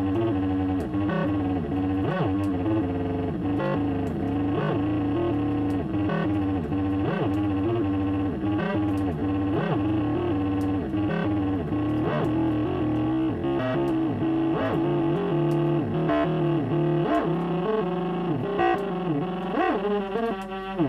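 Several synthesizer oscillators drone together, slightly out of tune, beating against one another in a dense, wavering buzz with no voices.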